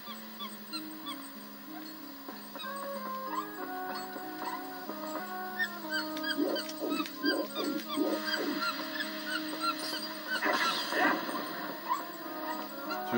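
Enemy creatures in the Wii game Zelda: Twilight Princess give off short repeated chirping cries over layered game music, with a louder cluster of calls near the end and no talking.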